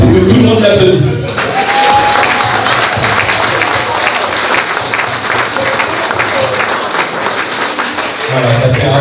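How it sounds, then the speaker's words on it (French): Guests at a Congolese wedding reception in Paris break into sustained loud applause and cheering, a dense wall of clapping that swells after a brief quieter moment and carries on for several seconds with crowd noise mixed in. "il faut que tout le monde l'applaudisse"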